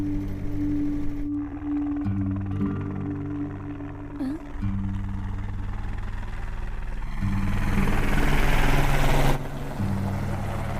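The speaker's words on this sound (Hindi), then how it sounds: "भैया वो देखो हेलीकॉप्टर।" A helicopter drones steadily with a low, layered rotor and engine hum, swelling louder toward the end; faint voices sit underneath.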